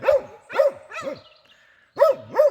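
A Laika hunting dog at a badger trial barks in five loud, close, tonal yelps with a whining edge, four spaced evenly and one after a short pause.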